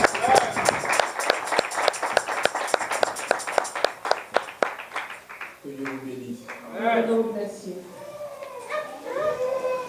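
Applause from an audience at a church seminar, a dense crowd clapping for about four seconds before giving way to someone talking over the room.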